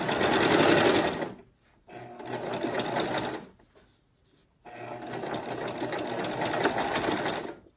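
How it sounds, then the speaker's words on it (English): A sewing machine stitches a quilt seam in three runs of fast, steady whirring with brief pauses between them, heard close up and alone. "on my last seam line, back tack, and forward"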